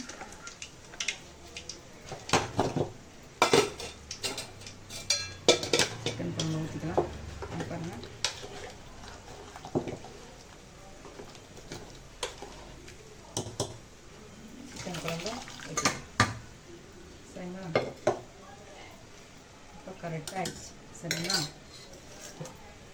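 Chicken curry poured and handled in a home kitchen, with repeated clinks and scrapes of metal utensils against pots, some running water, and scattered bumps over a quiet background.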